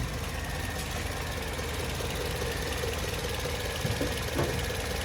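A Toyota GLI engine with the bonnet open is held at around 2000 RPM, giving a steady, dense mechanical drone with faint ticking, heard up close and continuously.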